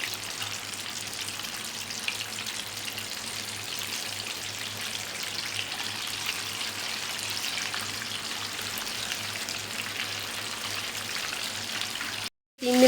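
Chicken pieces frying in hot oil over a medium-to-low flame for crispy KFC-style fried chicken, giving a steady, dense sizzle and crackle that runs without a break, fairly close and even, before cutting out abruptly near the end.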